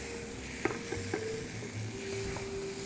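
Peeled potatoes cut on the angle sizzle quietly in a pan while being mixed, with a few light clinks and scrapes of a utensil against the pan over a soft frying hiss.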